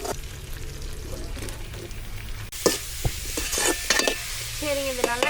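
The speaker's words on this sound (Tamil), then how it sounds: "இது நல்லா எண்ணெயில வதங்கிட்டு இருக்குது." Food sautéing in hot oil in a village kitchen, a steady sizzle with occasional stirring scrapes and clinks, close and fairly loud.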